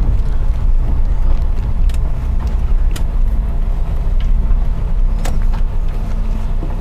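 A car rolls slowly into a parking spot in a rural village in a river valley near Yogyakarta, a steady low engine rumble close by with faint clicks and rattles, no talk heard.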